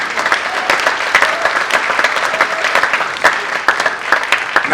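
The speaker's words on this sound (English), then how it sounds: "Give Mark another round of applause. Clap your hands." Audience at a poetry reading applauds poet Mark with dense, steady hand clapping that holds loudly across the whole stretch, a few sharper claps popping out of the mass.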